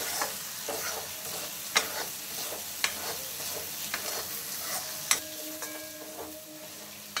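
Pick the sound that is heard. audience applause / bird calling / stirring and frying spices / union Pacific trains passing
stirring and frying spices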